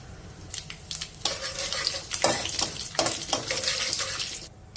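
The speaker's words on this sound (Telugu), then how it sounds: "ఇప్పుడు పోపు దినుసులు వేసేసుకుందాము" Mustard seeds, urad dal, chana dal and cumin frying in hot oil crackle and sputter close up, broken by repeated stirring scrapes, with no talking.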